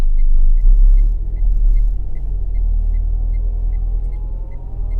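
A car engine rumbles low and steady as the vehicle accelerates uphill, with a faint regular chime ticking throughout.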